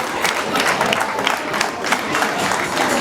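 At a school celebration at Centre Scolaire Notre Dame, a crowd breaks into applause for the Catholic Church. The clapping is loud and dense, with crisp individual claps rising out of a steady roar of many hands.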